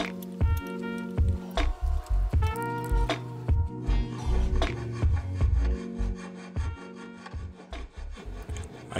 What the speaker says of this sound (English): I used files and sandpaper to finish shaping the handle the way I wanted it.